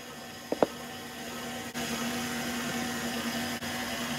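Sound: electric mixer blending cake batter

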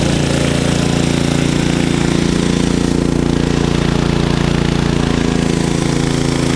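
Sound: KEMAGE KM5000io inverter generator running after switching to eco mode

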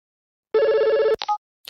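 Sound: telephone ringing

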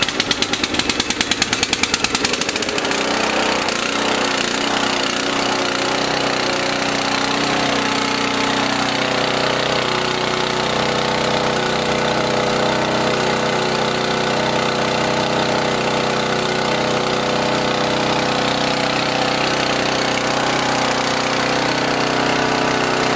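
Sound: small engine started and running on VP race fuel

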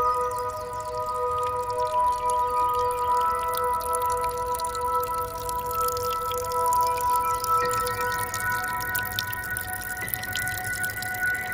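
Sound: water seep trickling into Pine Run stream

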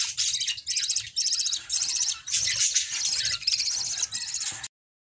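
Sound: lovebirds chirping

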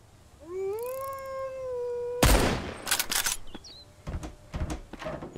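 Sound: sniper rifle shots in the video game Mist Survival

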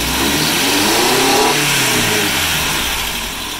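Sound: Toyota 22RE engine revving up from idle

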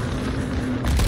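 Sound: proximity mine explosion in video game Modern Warfare II

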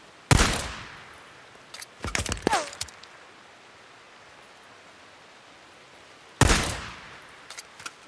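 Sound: gunfire in the video game Days Gone

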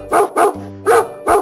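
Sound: dog barking

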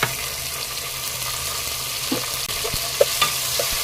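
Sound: onions and tomatoes sautéing in a pan for brinjal sambar

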